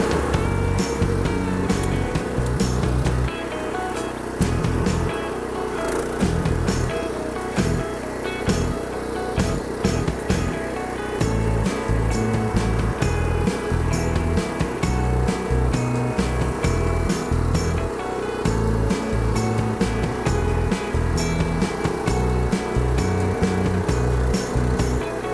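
A Branco BTTG800 walking tractor pulls a trailer, its small engine chugging loud and close in a rapid, uneven beat with brief dips and surges as it moves off, unbroken by talk.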